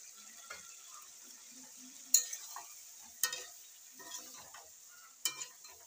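Beaten yogurt is stirred into fried pointed gourd in a pan, giving a soft, quiet background sizzle broken by three sharp utensil knocks and lighter scraping strokes.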